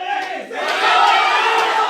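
A wrestling crowd at an intergender wrestling show cheers loudly, a roaring, swelling mass of voices that builds and holds for a couple of seconds.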